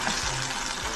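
A sweet chili garlic sauce with okra, thickening in a pan, is stirred steadily. Close, loud bubbling sizzle runs throughout with a spoon scraping through it.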